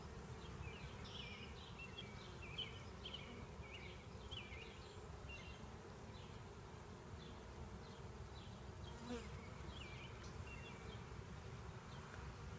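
A dense, steady swarm of honeybees drones continuously around a hive, loud and close throughout with no voices, the buzzing rising and falling slightly as bees mill about.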